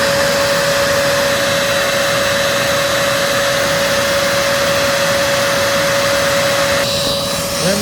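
A Kenmore EVO handheld vacuum cleaner runs at full power with a loud, steady whine and a constant rushing of air. It drones close and unbroken until a slight change near the end, with no talking.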